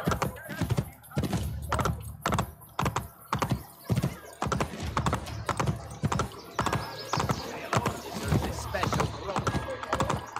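Rapid horse hoofbeats in Assassin's Creed Brotherhood clattering in an uneven stream, up close and fairly loud, mixed with thumps and some background game noise.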